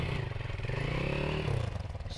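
A motocross bike's engine runs at a light, steady throttle, a continuous buzzing drone with slight rises and dips, close by and fairly loud, with no talk over it.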